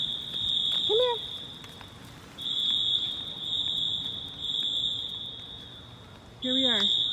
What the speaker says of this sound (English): The fire alarm has been going off for at least 5 to 10 minutes.